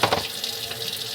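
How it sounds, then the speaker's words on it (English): Water pours steadily from a kitchen tap, a broad rushing stream that starts with a splashy burst and then runs on evenly, close and moderately loud, with no voices. "preferably use cold water, but I'm switching to hot water now"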